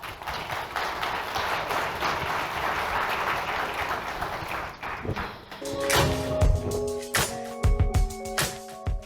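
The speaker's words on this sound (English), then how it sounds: "give everyone on the stage a round of applause" A convention audience applauds a panel at a plenary session, giving a dense, sustained clatter of clapping that thins into louder, scattered individual claps near the end.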